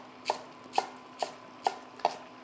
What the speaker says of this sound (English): And I'm just going to rough chop.